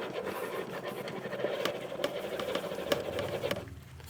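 A knife blade edge being polished on a 4000 grit stone, a quiet close rhythmic rubbing and scraping in repeated strokes, fairly faint and alone.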